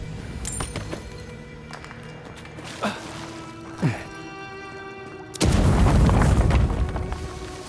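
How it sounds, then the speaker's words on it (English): A loud, sudden explosion bursts out in the fantasy video game Avowed, a broad roaring blast that sustains for a couple of seconds, following quieter ambient game sounds and a couple of brief thumps. "Don't mind the explosion, everyone."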